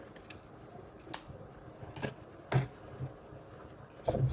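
Scissors trim excess fabric from a pleated crinoline backdrop, making several separate, crisp snips spaced out irregularly, close and quiet.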